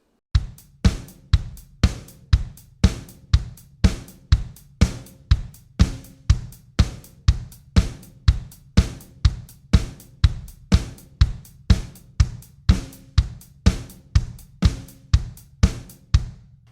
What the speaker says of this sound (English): I'm going to hit the snare with my left hand.